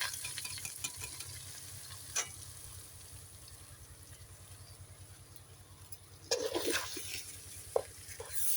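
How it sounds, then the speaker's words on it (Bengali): About a kilo of soaked rice is stirred in a pot of fat for pulao. A steady, close scraping and shuffling rhythm runs over a soft sizzle, with a few sharper scrapes near the end. "আমি নাড়তে থাকবো, নাহলে নিচে পোড়া লাগবে।"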